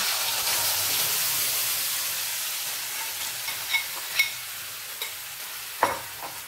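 Rice flour batter poured into a sizzling tempering of mustard seeds and sesame, giving a steady soft hiss and fry with a few sharp crackles and pops near the end.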